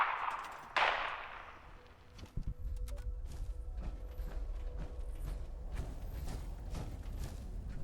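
Bursts of gunfire in Fallout 76, sharp rapid shots and rattling volleys over a rumbling low background, fairly faint overall and spread across the scene.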